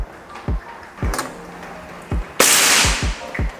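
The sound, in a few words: SR Stainless Series air rifle shot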